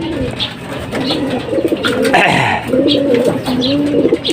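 A racing pigeon back at its loft coos close by in repeated low, rolling phrases, with faint bird chirps and background noise around it.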